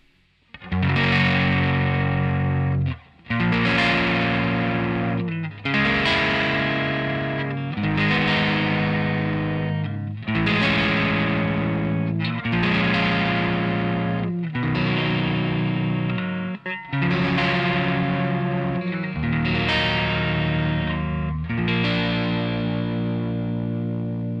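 Heavily distorted electric guitar strums a series of sustained chords from a song, each ringing out before the next, with a lush effect-laden tone and no talking.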